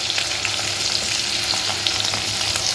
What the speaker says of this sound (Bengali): তেলটা ভালোই গরম হয়ে গেছে, দিয়ে দিচ্ছি বেগুন